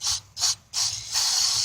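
Mass airflow sensor cleaner sprays from an aerosol can in short hissing bursts, two quick blasts followed by longer continuous sprays, close and loud with no talking.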